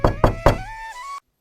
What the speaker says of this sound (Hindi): एक दिन सरपंच अपने कुछ आदमियों के साथ सुबह सुबह वेदांत के घर का दरवाजा बजाने लगते हैं।